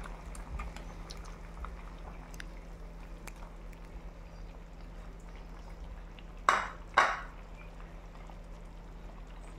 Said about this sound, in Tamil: இப்போது முட்டையை உடச்சி வச்சதை இதில் சேர்த்துக்கலாம்.